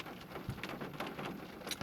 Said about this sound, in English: If you don't know, it is raining outside, so that's the sound you're hearing.